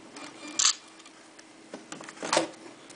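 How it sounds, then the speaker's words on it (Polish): A Nikon Coolpix L110 compact digital camera fires its shutter, with two distinct clicks about two seconds apart close to the microphone, small mechanical ticks and zoom whirs in between, no talking. "Cyknijmy sobie jakieś zdjęcie."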